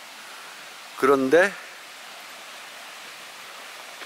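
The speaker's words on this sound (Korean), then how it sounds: "물소리 참 요란스럽죠." A rain-swollen stream rushes loudly through a valley across the road from a rural plot in Hoengseong, a steady, dense wash of water throughout, with one brief spoken word partway through.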